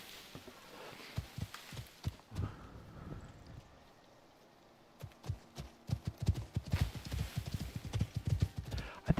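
Horses clip-clop in the survival game Icarus, with clusters of hoof strikes at close range, a short lull, then a busier run of hooves, a faint whinny, and quiet talk underneath.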